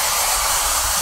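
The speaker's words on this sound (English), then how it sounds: "So we have a student here using a single switch to activate a blow dryer." A handheld blow dryer, switched on with a single assistive switch, runs with a steady, loud, even whoosh throughout, with no talking.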